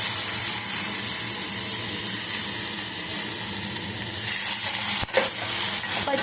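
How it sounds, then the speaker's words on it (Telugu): Tomato pieces and curry leaves fry loudly in a pan, a dense continuous sizzle with stirring scrapes and one sharp clack near the end, close up and without speech. "పచ్చివాసన పోయేంత వరకు వేయించుకోవాలి"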